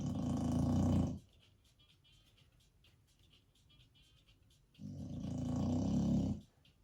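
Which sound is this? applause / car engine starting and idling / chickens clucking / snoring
snoring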